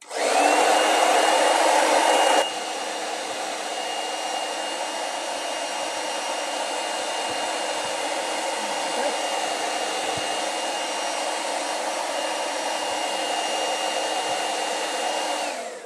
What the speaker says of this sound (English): Okay, I'm just going to dry that first though.